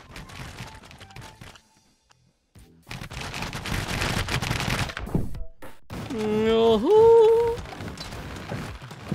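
Weapons fire in the TABS battle video game in scattered bursts of shots, broken by a brief near-silent gap, with a rising and falling whistling tone layered over the later shots.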